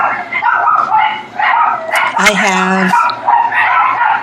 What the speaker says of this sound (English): And I apologize for the dogs barking if you can hear them.